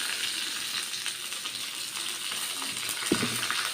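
Dried red chillies frying in hot tempering oil with curry leaves and small onions, an even, continuous sizzle with one short knock near the end.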